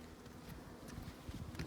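Honey bees from a new package buzz steadily around their queen during installation with a bee funnel, a dense continuous drone close by with no talking.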